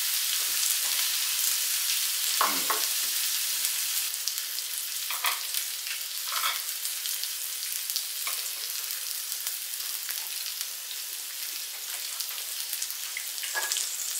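Beef sirloin steak seasoned with Worcestershire and Montreal steak seasoning frying in a pan, a steady close sizzle and crackle running throughout, with a brief murmured voice and a few utensil stirs.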